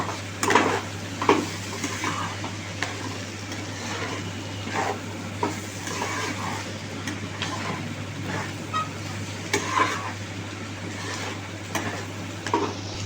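Chicken tossed with Kashmiri chilli powder is stirred in a pan: repeated spoon scrapes and light clinks with a faint sizzle over a steady low hum.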